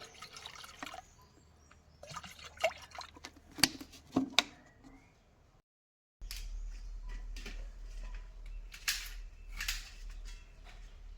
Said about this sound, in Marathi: तेवढंच पाणी टाका.